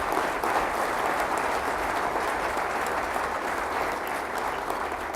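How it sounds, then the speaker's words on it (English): Steady, dense applause from a large crowd at a staff meeting, a continuous wash of many hands clapping at once with no break, close and loud throughout. "give her a round of applause for what she's done"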